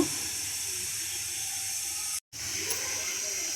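Cooking oil hisses steadily in a hot pan while a dhaba-style paneer curry is started, a constant close sizzle that cuts out for a brief moment before resuming.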